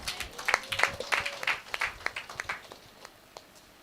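A church congregation claps in applause, a quick run of sharp, fairly faint handclaps that thin out and fade toward the end, heard from a distance in a reverberant hall.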